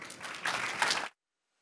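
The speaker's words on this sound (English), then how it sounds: "please do give our speakers a very warm round of applause" An audience at a panel discussion about NFT collectors claps for the speakers in a short burst of applause that stops abruptly after about a second.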